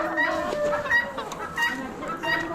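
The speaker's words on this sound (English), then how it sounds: "Look like laying house hens there" Laying house hens cluck and squawk in a busy, overlapping chorus at a poultry auction, a steady din of close birds with short louder calls breaking through.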